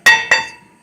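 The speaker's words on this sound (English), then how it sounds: "Give it a little love taps with your BFH, you know, your big fucking hammer." Two sharp metallic clinks of a hammer striking a 2008 Honda Pilot rear brake rotor, about a quarter second apart, each ringing briefly before fading.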